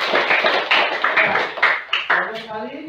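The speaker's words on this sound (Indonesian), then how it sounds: "Ya, tepuk tangan dulu." Students in a classroom during a teaching performance test clap together in a rhythmic, patterned series of bursts, near and loud, before a voice begins speaking at the end.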